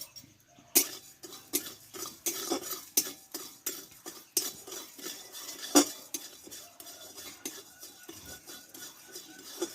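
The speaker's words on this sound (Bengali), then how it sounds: "চিনিটাকে একটু ভেজে নেবো আমি" A spoonful of sugar dry-roasted in a pan and stirred continuously, heard as a steady run of metal spoon scrapes and clinks against the pan, close and fairly quiet, with no talking.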